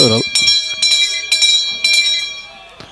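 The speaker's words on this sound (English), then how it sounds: "The bell's gone." A bell rings in repeated bright strikes with a lingering metallic tone, about four quick rounds, with brief voices at the start and end.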